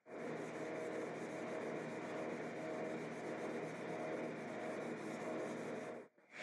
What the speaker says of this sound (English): I'm going to hit everything with 320 by hand to get rid of any of the power sanding marks.